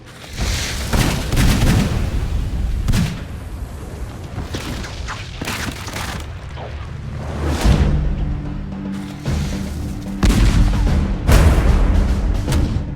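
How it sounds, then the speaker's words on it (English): Rapid bursts of gunfire from a multi-barrelled gunpowder gun in Age of Empires IV, with booming blasts and crackling volleys repeating loudly across the scene, no talk. "This is the sort of gun that would have been very much against people being able to spread your shot out and hit large numbers of people in one go."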